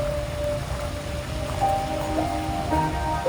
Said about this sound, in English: I love the sound of the babbling brook.